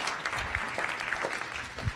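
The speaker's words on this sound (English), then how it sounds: "Let's give Sushma a round of applause" Audience applause at a climate policy science cafe after a talk, a faint, even patter of many hands clapping across the whole stretch, fairly distant and without speech.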